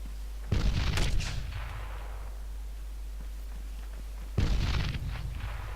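Two sharp, loud rifle reports in the ArmA 3 video game, one early and one near the end, each ringing out with a decaying tail over a steady low hum.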